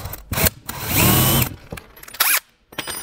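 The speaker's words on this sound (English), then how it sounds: "Pre-drill with a 1/4-inch through the first piece of rail, not into the second piece of rail." A power drill bores a 1/4-inch pilot hole through a wooden stair rail in short whirring bursts, with one longer sustained run and a few brief spurts between pauses, all close by.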